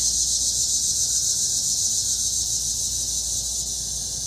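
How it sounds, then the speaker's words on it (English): A steady, high-pitched cicada buzz drones on without a break, loud and continuous, with no voices over it. "You can hear the cicadas."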